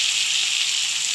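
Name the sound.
tomatoes frying in a pan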